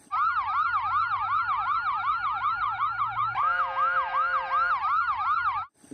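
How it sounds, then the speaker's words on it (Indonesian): A toy ambulance siren wails loudly in fast, repeating rising-and-falling sweeps close by, joined midway by a steady second tone, then cuts off abruptly near the end. "Yang ini mobil ambulan."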